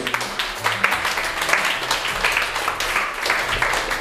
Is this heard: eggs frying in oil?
no